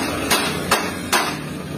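A hammer strikes a motorcycle frame, an older model from around 2015, in three sharp, evenly spaced metallic knocks that stand out clearly over a low background hum.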